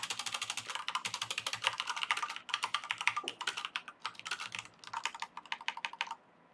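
Rapid clicky keystrokes on a computer keyboard while C# code is written, close and crisp, in uneven bursts with brief pauses, ending in silence.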